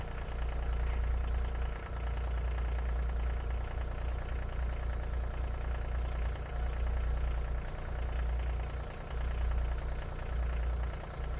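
A stuck tractor's engine runs steadily with a deep, continuous rumble and slight rhythmic knocking as its front wheel spins in the air, loud and close throughout, no voices.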